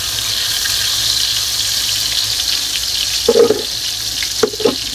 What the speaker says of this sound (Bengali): এখন আমরা পটলগুলোকে ভেজে নিব